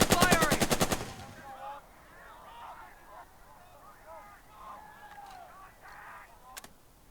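Machine gun fire in the World War II strategy game Burden of Command, a rapid burst of about a dozen shots lasting one second, then fading into quieter battle ambience with distant scattered sounds.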